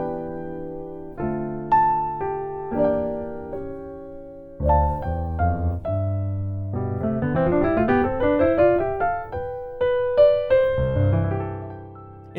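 Solo piano plays jazz-style scales with several harmonized notes stacked beneath each melody note, moving in bright ascending and descending runs with clear, close, sustained chords.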